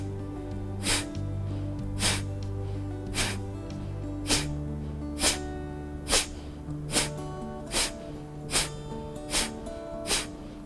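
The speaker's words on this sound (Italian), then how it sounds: "per gli altri iniziamo a velocizzare questa respirazione" Fast, energetic yoga breathing: about a dozen forceful, rhythmic exhalations through the nose at an even pace, each a sharp puff over soft sustained background music.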